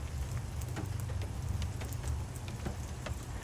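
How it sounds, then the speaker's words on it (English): Steady rain falls through a redwood forest, a dense even patter with scattered close drops landing on nearby surfaces, continuous and fairly loud with no voices. "I can just sit quietly and listen to the rain."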